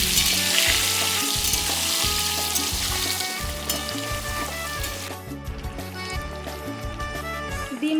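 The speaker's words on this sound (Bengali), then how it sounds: "ডিমগুলো ভালো করে ভেজে নেব।" Eggs fry in a hot kadai for egg biryani, giving a steady, loud crackling sizzle with occasional stirring that runs throughout, under continuous background music.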